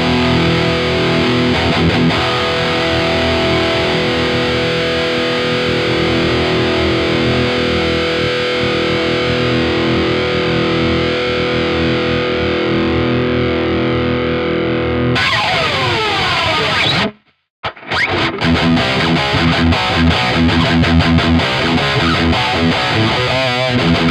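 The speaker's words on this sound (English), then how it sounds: "let's see what the all-round workhorse guitar sounds like with some distorted tones" An Icarus electric guitar plays through heavy distortion, loud and sustained chords and riffs running continuously, with a brief near-silent break before it resumes.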